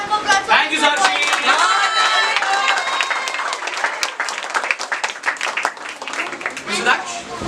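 Audience applause at a felicitation celebration in a classroom, a dense steady round of clapping from a group that lasts throughout, with cheering and chatter mixed in.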